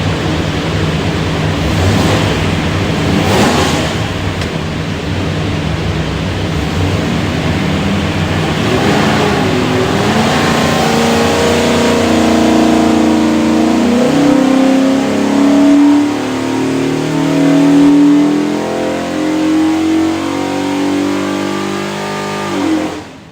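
A Ford 347 stroker V8 with a rear-sump oil pan revs hard on a dyno, a loud continuous roar that climbs steadily in pitch through a full pull with no talking.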